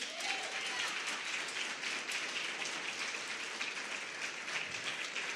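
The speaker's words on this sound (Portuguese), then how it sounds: "Aplauda Jesus." A church congregation claps steadily for the full stretch, a dense, even wash of applause at moderate distance with no voices standing out.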